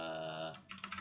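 A computer keyboard clicks as a folder name is typed, a short run of several quick, light keystrokes following a steady hum, close and quiet.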